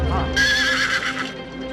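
A horse gives one loud, close whinny lasting about a second, with faint hoof clops around it; the horse is the sacrificial steed Indra stole and tied up at the sage Kapila's ashram.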